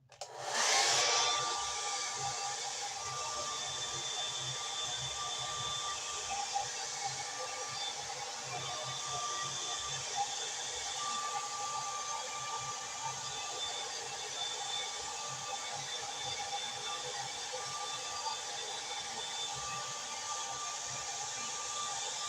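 A hair dryer switches on with a quick rising whoosh, then roars in a steady, loud, unbroken blast while blow-drying hair for a back-to-school pageant style. The airflow hiss holds close and constant throughout, with no talking.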